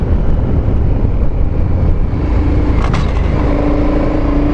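KTM Super Adventure 1290 motorcycle pulling hard at speed, a loud, steady engine roar mixed with heavy wind rush that holds continuously throughout, with no break or pause.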